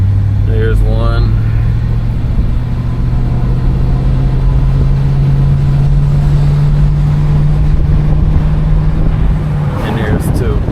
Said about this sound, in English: I'll give it a little more throttle here. The shifts have been smooth.